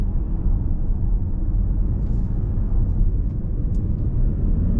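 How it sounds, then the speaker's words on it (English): The petrol engine of a 2021 Toyota Kluger Hybrid runs as a steady, low rumble heard from inside the car, fairly loud and unbroken, with no talk over it. "Now that's the petrol motor kicking in"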